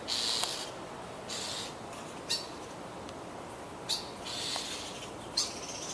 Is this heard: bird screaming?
yes